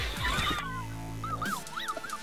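A dog whimpers and yips in a run of high, wavering whines, fairly close and clear, over a low steady background hum.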